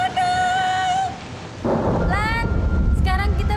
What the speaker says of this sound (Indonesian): Mana hujan deras lagi?